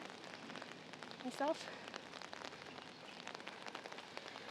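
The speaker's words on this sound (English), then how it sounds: "Makes for a pretty quiet and peaceful rain day walk." Steady rain falling on a quiet walk in Bedok, Singapore, a soft continuous patter on surfaces with a brief nearby voice briefly over it.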